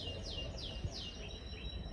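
Faint birdsong drifts in from a distance to an apartment balcony in Albania, a few downward-sliding whistles over a steady background hiss.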